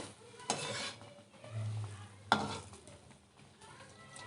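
Palm fruit pitha deep-frying in hot oil gives a soft, continuous sizzle, with a couple of sharp utensil clacks against the pan and light stirring sounds.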